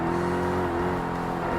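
Turbocharged car engine in the Forza Motorsport racing game, a steady loud drone with layered harmonic tones that shift slightly in pitch as the car holds speed, with no talking.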